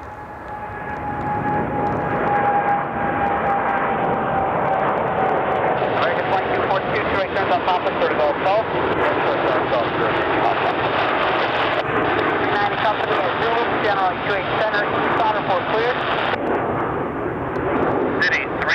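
Japan Airlines jet in Arashi JAL-Hawaii livery taking off, a loud sustained engine roar that swells within the first couple of seconds and holds steady with a rising whine and rumble throughout.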